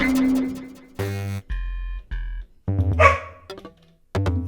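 A dog lets out a few sharp barks up close, mixed in among short electronic synthesizer tones that start and stop in quick bursts.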